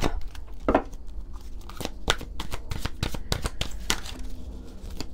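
A deck of oracle cards is shuffled by hand up close, a quick run of crisp riffling slaps and flicks in irregular bursts, fairly quiet and with no talking.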